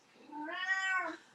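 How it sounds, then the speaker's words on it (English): A cat gives a single clear, drawn-out meow that rises and falls, close and fairly loud in a quiet room. "a cat? That was a cat? That's a cat."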